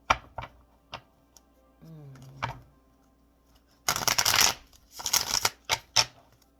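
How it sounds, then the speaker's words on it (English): A tarot deck being shuffled: a few soft card taps, then two bursts of riffling, loud and close, with brief crisp flicks between them. "We'll pull a few cards from this tarot deck, then I'll clarify with a second tarot deck."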